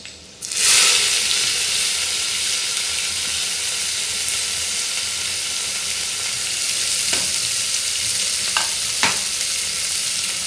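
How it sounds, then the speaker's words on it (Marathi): Chopped onion frying in a pan for prawn rice, a loud, steady sizzle that bursts up at the start and carries on unbroken, with a few faint scrapes of stirring near the end. "कांदा व्यवस्थित परतून घ्यायचा आहे।"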